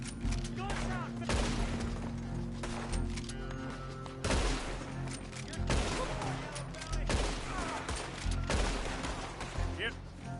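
A sustained gunfight in Red Dead Redemption II, with repeated gunshots and bursts of gunfire cracking loudly throughout over a dense game soundscape, while a voice talks over the action.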